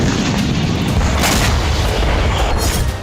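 A rocket strike explodes in Khan Younis with a loud, sustained rumble and roar that fills the whole stretch with no pause. It sounds dense and heavy throughout.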